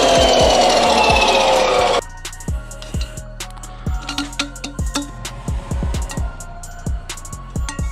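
Custom intercooler piping for a Honda Civic EG is cut to length in a garage: a harsh, continuous cutting noise runs for about two seconds, then stops, followed by a series of sharp metallic clanks and knocks.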